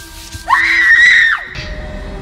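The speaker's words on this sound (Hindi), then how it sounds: "जवाब में उसको मिली एक आवाज और एक स्टूडेंट की चीख।" A student screams in a classroom scene of an audio drama, a sharp rising cry that holds loud for about a second before breaking off, followed by a brief softer sound.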